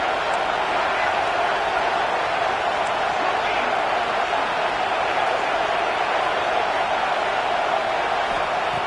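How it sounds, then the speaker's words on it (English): Dense, steady roar of a packed stadium crowd at a Georgia vs Alabama college football game, loud and continuous without a break. "listen to this crowd noise. This stadium is vibrating"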